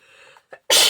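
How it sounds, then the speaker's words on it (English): A single sharp sneeze bursts out loud and close at the end, preceded by faint low murmuring and a small breathy catch. "sorry for sneezing"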